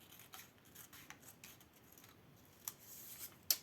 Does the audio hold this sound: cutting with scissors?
yes